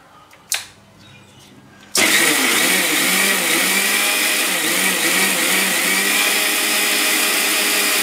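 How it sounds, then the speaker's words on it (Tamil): Mixer grinder grinding boiled pepper, cumin and fenugreek into a paste for Srirangam-style rasam, starting abruptly with a loud, steady whirring roar that runs on continuously after a brief click. "அதை ஒரு பேஸ்டாட்டம் அரைச்சிக்கோங்க."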